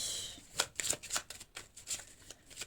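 Tarot cards being shuffled and drawn at close range, with quick riffling and flicking in rapid irregular bursts over a faint background hiss and no talking.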